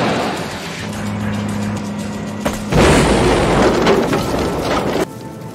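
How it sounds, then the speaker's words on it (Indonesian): A grenade set off on top of a bomb in a Vietnam War prison camp escape produces a loud, sustained blast that bursts in partway through and rumbles on for a couple of seconds over a low mechanical drone. "Cooper meledakkan granat tersebut tepat di atas bom, hingga ledakan dahsyat pun terjadi"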